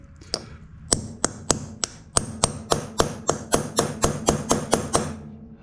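A metal punch struck repeatedly with a hammer to mark a spot for drilling during a Craftsman rear-tine tiller repair: about fifteen crisp, close taps, a few scattered at first, then a fast even run, no talking.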